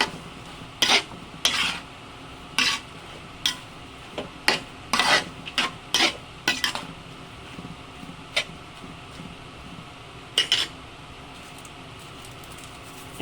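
Ingredients for dinuguan are stirred in a pot, with a series of sharp scraping and clanking strokes of a utensil against the metal, irregular and close, separated by quieter gaps over a faint background hum.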